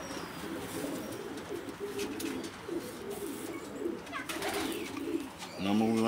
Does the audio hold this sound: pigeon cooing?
yes